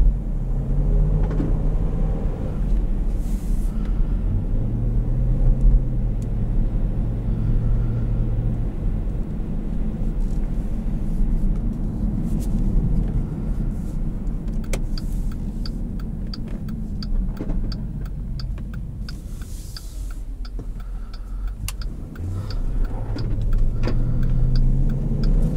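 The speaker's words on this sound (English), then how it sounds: "Who doesn't love V8 noises?" A 2012 Jeep Grand Cherokee Limited with the 5.7L HEMI V8 and about 122,000 miles, heard from inside while driving: a steady, loud low engine drone with rising and falling revs as it accelerates and shifts.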